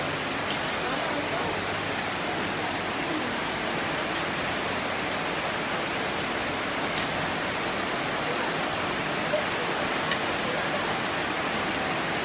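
Heavy rain pours down in a dense, unbroken hiss, close and loud, holding steady with only faint occasional drips or knocks standing out.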